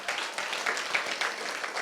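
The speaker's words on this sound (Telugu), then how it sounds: "అప్పుడే చప్పట్లు మోగించడం ఆగిపోయినాయండి?" Audience clapping at a children's competition prize ceremony for school pupils, a moderate burst of scattered hand claps that stays fairly even throughout, heard at some distance.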